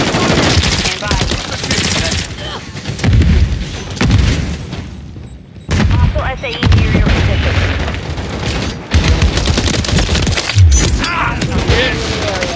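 Gunfire in Call of Duty MW3: loud, dense bursts of automatic fire and heavy booms in close succession, broken by brief pauses, with voices talking over the fighting.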